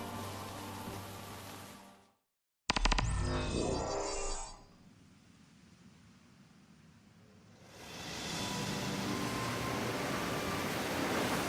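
A boat sails across the sea in Final Fantasy XV, a broad rushing wash of water and wind that cuts out briefly, returns, softens to a low rumble, then swells back to a full steady roar.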